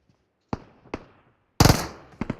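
Gunfire from the PUBG Mobile battle game: two sharp isolated shots, then a dense, loud burst of rapid automatic fire trailing off, followed by two more quick shots.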